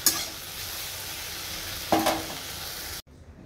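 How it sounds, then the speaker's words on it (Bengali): Okra (bhindi) frying in a pan beside fried bori, a soft continuous sizzle with a brief scrape of stirring midway, then sudden quiet at the end. "বড়ি তো ভাজা হয়ে গেছে, ভেন্ডি ভাজা হচ্ছে"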